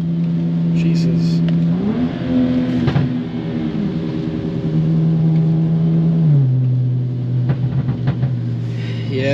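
Car engine revving hard under throttle with an xHP Stage 3 transmission tune, pitch climbing and dropping in steps as gears shift, loud and close with brief voices over it.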